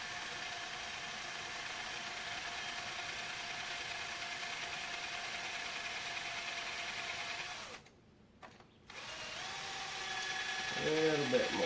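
A small drill whirs steadily at a constant pitch, stops for about a second, then starts up again and runs on.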